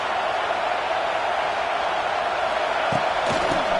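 Huge football stadium crowd at Beaver Stadium roaring to back its defense, a dense sustained wall of noise with a few brief thumps near the end.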